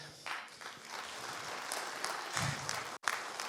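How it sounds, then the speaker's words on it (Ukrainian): Spectators at the ARARAT World Fighting Championship in Ukraine applaud in a steady, crowded wave. The sound briefly cuts out just before the end and then resumes. "Ще раз оплески"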